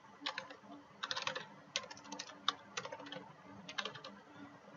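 Computer keys clatter in quick bursts as HTML heading code is typed, close and fairly quiet, with brief pauses between clusters of keystrokes.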